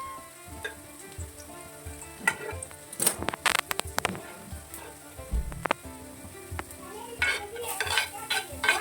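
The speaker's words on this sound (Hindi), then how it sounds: "30 सेकंड के लिए हम इनको सौटे करेंगे।" Ginger, garlic, spring onion and white onion sautéing in a pan, a steady close sizzle broken by clattering stirs and utensil scrapes against the metal, with no voices.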